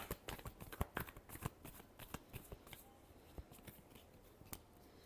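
Tarot cards being shuffled by hand in quick, uneven bursts of crisp riffling and flicking, close and fairly quiet, with no talking.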